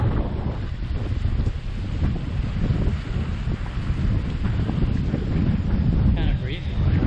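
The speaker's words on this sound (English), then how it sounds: "Kind of breezy" Strong wind at a seaside resort on rocky shoreline in Grand Cayman, steady loud rumbling gusts buffeting the microphone throughout with surf-like roar underneath.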